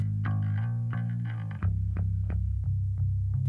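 Bass guitar played through an Ampeg SVT amplifier in a mix breakdown, a close, round low line of plucked notes with steady rhythm, playing alone with no talk.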